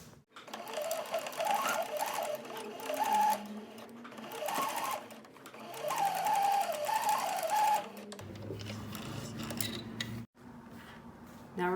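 Sewing machine stitching fabric pieces for a stuffed bunny toy, a steady mechanical whir running in long bursts with brief pauses, close and fairly loud, ending in a lower hum.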